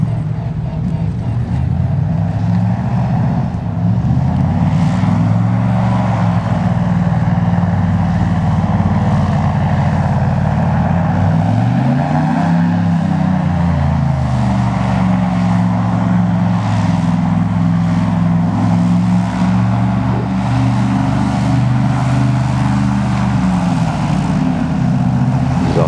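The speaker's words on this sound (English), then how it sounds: "This is the fire department. They come out and mark the channel that we can go across. This is their airboat." A fire department airboat's loud, droning engine roars steadily and close on an ice-choked river, its pitch rising and falling briefly midway, with no pauses throughout.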